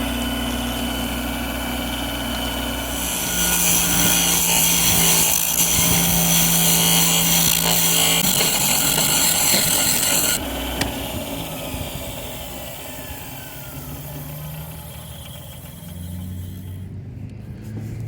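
A wood lathe spins firewood at maximum speed, a loud continuous motor whine and rumble with a steady rubbing hum that drops slightly in pitch and level partway through, no voices.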